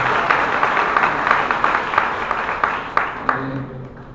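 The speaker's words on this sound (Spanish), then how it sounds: "un aplauso para ellos" Audience at a human rights forum applauding, dense continuous clapping with some sharp individual claps standing out, fading toward the end.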